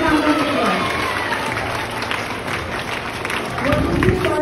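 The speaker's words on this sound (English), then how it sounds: "Give a big round of applause." An audience at a quiz competition applauding, a steady wash of clapping from a crowd that holds fairly even throughout, with a voice speaking over it at the start and again near the end.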